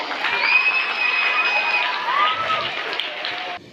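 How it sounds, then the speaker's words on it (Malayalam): A crowd at a school felicitation ceremony for high-achieving students breaks into loud cheering and clapping for a teacher, a sustained burst with excited voices and whistle-like shouts that cuts off abruptly. "അദ്ദേഹത്തിന് ഒരു പ്രത്യേക കയ്യടിയുണ്ട്"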